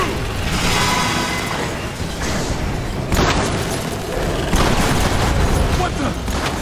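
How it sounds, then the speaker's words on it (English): Heavy gunfire and booming blasts from Transformers: War for Cybertron as shots strike an armored enemy, a dense, loud barrage running continuously with sharper bursts layered over battle noise and faint voices. "My shots are just bouncing off it!"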